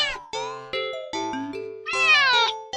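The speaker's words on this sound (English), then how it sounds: "Oh, that isn't a normal meow." A cat meows repeatedly and insistently, a string of close, loud, drawn-out cries that rise and bend in pitch, the last one longest and most strained.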